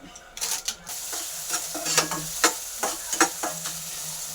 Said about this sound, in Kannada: ಸಾಸಿವೆ ಚಿಟಪಟ ಅನ್ನಲಿ